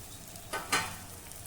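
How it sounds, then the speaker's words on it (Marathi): Fried brinjal pieces tipped into hot ground masala, a short scrape and stir followed by a sharp burst of close sizzling that quickly settles; no voices. "आता यामध्ये ही परतलेली वांगे घालूया."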